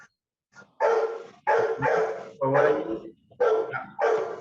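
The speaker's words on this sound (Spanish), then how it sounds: "amarran al perro" A dog barks close and loud in a series of sharp barks, about five bursts in quick succession, with a few words spoken between them.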